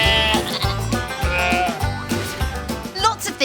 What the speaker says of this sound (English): Wool comes from sheep.